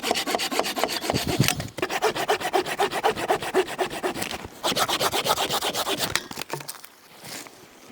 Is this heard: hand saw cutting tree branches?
yes